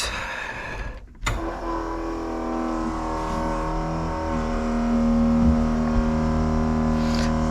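A 400hp V8 swapped into a BMW cranks and fires up after a week of sitting, the starter whir cutting off into a loud, steady idle with a deep rumbling exhaust that swells slightly near the end.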